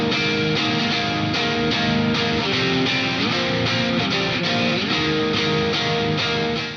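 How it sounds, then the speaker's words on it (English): Several heavily distorted rhythm guitars play together in a dense, loud, steady wall of chugging chords that continues without a break. "here are the first pair of rhythm guitars"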